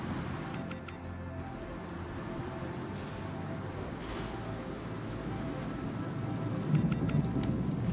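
Strong wind roars steadily across an outdoor area in the video game Star Citizen, a continuous gusty rush with low rumble that swells slightly near the end, with no voices.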